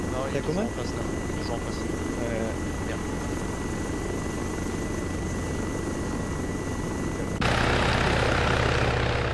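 A helicopter drones steadily with a rhythmic rotor chop, and the sound jumps louder and closer near the end; a voice talks over it early on.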